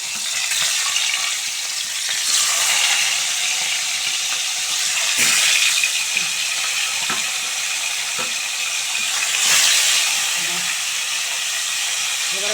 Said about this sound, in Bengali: তেল গরম হয়ে গেছে এই দেখো এবার মাছগুলো সব দিয়ে দেবো